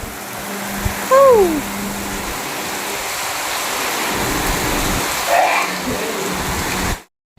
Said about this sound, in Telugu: సడన్గా ఉన్నట్లుండి వర్షం పడింది